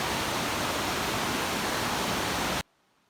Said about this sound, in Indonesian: Aliran air terjun ini jatuh masuk ke dalam sebuah lembah yang memanjang ke selatan